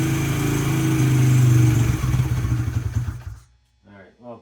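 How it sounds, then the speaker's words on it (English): A Honda XR70 motorcycle fitted with a BBR 88cc big bore kit fires up on a cold kick and runs loud and close with a steady buzzing idle, then cuts off as a voice talks briefly. "first real kick I gave it, it fired right up"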